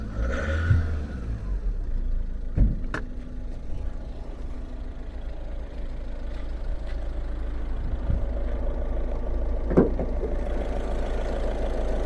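A 2013 Volkswagen Vento 1.6 TDI diesel engine with 108,000 km idles with a steady low drone close by, with a faint clatter and a couple of brief knocks or clicks.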